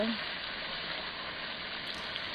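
Shrimp frying in a pan with chili powder, a steady dense sizzle running evenly throughout, close and moderately loud with no talk.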